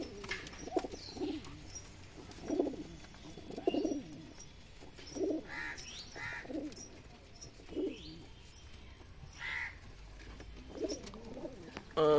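Desi Giribaz pigeons cooing inside a loft, repeated soft low coos in an irregular rhythm from several birds, fairly close, with faint background noise.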